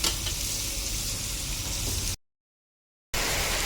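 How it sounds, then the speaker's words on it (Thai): Sun-dried beef frying in a little oil, a steady loud sizzle and crackle that cuts to silence for a second before resuming. "ทอดน้ำมันไม่ต้องเยอะหรอกรวนๆให้มันพอสุก"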